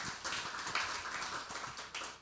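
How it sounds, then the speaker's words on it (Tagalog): A church congregation applauds during a Filipino worship service: a dense, steady wash of many hands clapping together, fairly loud and sustained throughout with no voices over it. "Isang malakas ulit na palakpak para sa ating Panginoon."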